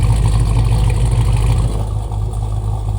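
A modified Cadillac Escalade with an aftermarket cam, intake and exhaust set to quiet mode idles and revs, a loud, steady, deep engine drone close by that eases slightly toward the end.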